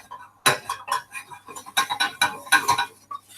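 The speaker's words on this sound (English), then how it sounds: "Stir that flour in really well" A spoon working flour into melted butter in a pan for macaroni cheese, giving irregular clinks and scrapes against the metal, close and fairly loud, in quick uneven bursts with no voice.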